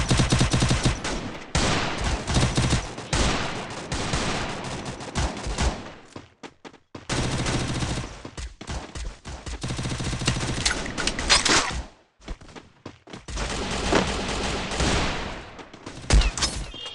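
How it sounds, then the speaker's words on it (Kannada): Shotgun and automatic gunfire from a video game rattles in dense, rapid bursts, loud and continuous, broken by a couple of brief pauses. "ಈ ಶಾರ್ಟ್ ಗನ್ ಹಿಡ್ಕೊಂಡು ಬರ್ತಾವೆ ದೊಡ್ಡಕ್ಕೆ."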